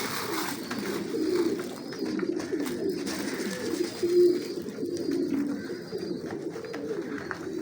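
Pigeons feeding on scattered grain coo softly and continuously close by, with faint rustling and pecking sounds mixed in, no voices.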